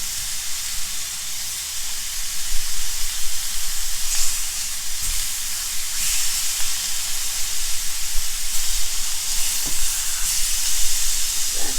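Thick loin pork chops sear in a hot pan, giving a steady broadband sizzle and hiss with a few soft clicks and bumps as pieces shift, continuous and close with no talking.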